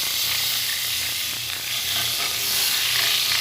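Potato and pointed gourd pieces fry in hot oil left over from frying fish, giving a steady, close, bright sizzle and hiss with soft bubbling underneath and no break.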